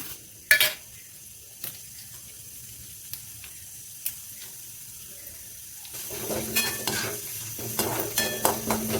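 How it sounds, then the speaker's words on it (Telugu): Tempering spices fry in a pan, with a few sharp utensil clicks over quiet sizzling, then louder sizzling mixed with repeated stirring scrapes toward the end. "పోపు వేయించేసుకుందాం"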